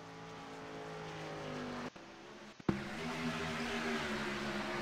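Race car engines drone and whine in a racing video game at Texas Motor Speedway, a steady engine tone broken by two brief cuts before resuming.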